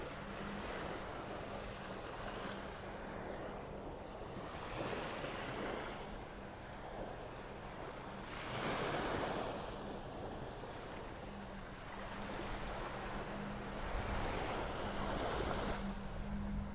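Surf washing onto the sand at the south end of Vanderbilt Beach in North Naples, Florida, a steady wash with swells of breaking waves recurring every few seconds, heard moderately close with some wind hiss and no talking.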